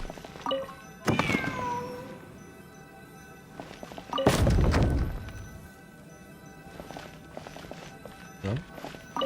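A cat meows a couple of times in the Genshin Impact video game, mixed with thumps, a loud dull impact and scattered soft clatter over a steady game ambience.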